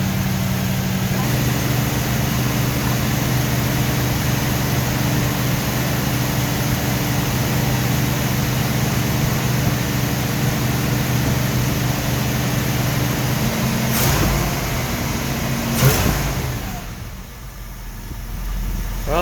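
An old car nicknamed Old Blue idles steadily as it warms up, a constant low engine hum close by that carries on for the whole stretch, with brief knocks and a dip near the end.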